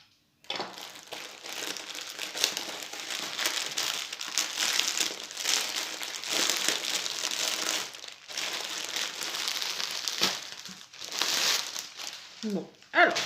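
Crinkly plastic packaging from an AliExpress cross-stitch order being opened and torn, with steady close-up crumpling and rustling throughout, several short pauses, and a brief voice near the end.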